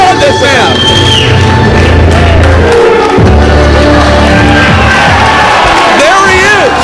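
A wrestling arena crowd cheers, whoops and yells loudly and continuously at Lanny Poffo versus Jay Lethal, with a voice calling out over the din.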